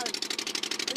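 Engine of an old wooden refugee boat at sea running poorly, crowded with about sixty people, giving a rapid, uneven, pulsing chug close by.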